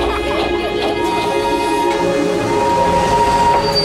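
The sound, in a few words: Darjeeling toy train chugging up the hills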